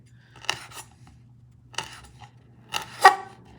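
Fresh farmers' market herbs cut into tiny pieces, with three distinct crisp snips or chops spaced about a second apart, close and clear over a faint low hum.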